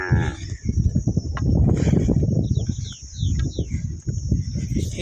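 Deep, drawn-out lowing of cattle fills the clip, with a thin steady whine running high above it.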